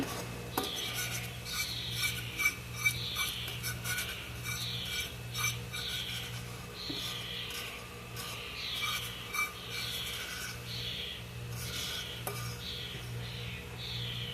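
Repeated rasping scrapes of a utensil across a pan bottom, lifting browned butter particles for chocolate chip pecan cookies, in a steady rhythm of strokes with a constant low hum underneath and no talking.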